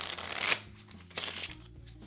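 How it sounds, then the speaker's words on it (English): A deck of playing cards is riffle shuffled nearby, giving a quick fluttering burst of card edges followed by softer handling sounds, with no talking. "then I'll give it a riffle shuffle here"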